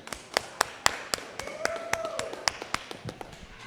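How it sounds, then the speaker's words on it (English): Scattered hand claps from a small audience greet an artist, a sparse round of applause with distinct individual claps popping in an uneven rhythm, while faint talk lingers underneath. "I want y'all to give a round of applause to LATASHA REEVES."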